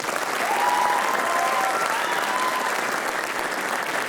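Steady applause from a school audience at a writers expo debate, a dense even wash of clapping sustained throughout without pause, with faint voices mixed underneath.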